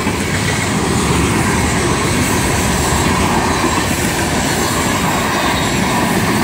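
A BNSF freight train passes close and loud, its cars producing a continuous heavy rumble with rhythmic clickety-clack and a hint of wheel squeal, no voices over it.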